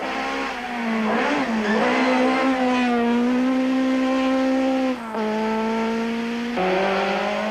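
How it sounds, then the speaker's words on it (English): A Volkswagen Golf rally car at speed on a 1994 rally stage, its engine droning loudly and steadily with rising and falling pitch through gear changes, close and continuous. "Serge and Vito on their way to yet another stage win"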